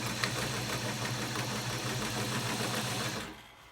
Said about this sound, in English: we're going to sew all the way around, putting elastic in the corners.